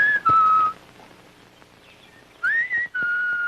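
A person whistles short tonal phrases, a sliding pitch then a held note, a pause, then a rising sweep and another held note, clear and close with quiet gaps between.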